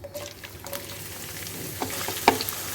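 Onions dropped into hot oil spiced with cardamom, cinnamon and cloves for beef biryani, a soft steady sizzle with occasional stirring clicks and a sharper scrape near the end, no talking.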